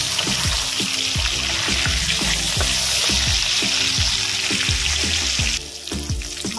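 Fish frying in oil in a wok, a loud continuous sizzle with repeated rhythmic scraping and knocking of a utensil against the pan, close up throughout.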